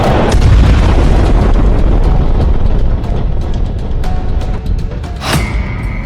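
Heavy explosions from Israeli air force bombing in southern Lebanon, a loud continuous rumbling roar with crackling bursts and a sharp blast near the end, no voices.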